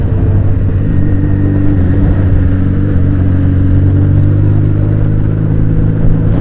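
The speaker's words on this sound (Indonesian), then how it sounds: "Ini tuh knalpot standar loh." Benelli Patagonian Eagle 250 motorcycle with stock exhaust, idling and lightly revving close by in a deep, steady, loud rumble with a low throbbing beat.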